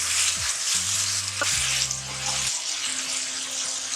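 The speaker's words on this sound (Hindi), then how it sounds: "मसाले को अच्छी तरह भूनेंगे जब तक टमाटर गल नहीं जाते।" Masala with tomatoes and green chilies frying in a pot, a bright continuous sizzle with a steady low hum underneath and a short clatter, no one speaking.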